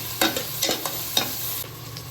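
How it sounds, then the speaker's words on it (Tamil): Green chillies and curry leaves sautéing in oil for a chicken gravy, with a close, crackling sizzle broken by a few sharp spattering pops and the scrape of a stirring spoon. "கொஞ்சமாக கருவேப்பிலை போட போகிறேன். நல்லா வதங்கணும்."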